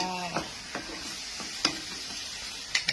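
Vegetables being stir-fried in a pan sizzle faintly, with a few soft scraping strokes of a spatula spaced irregularly, close by.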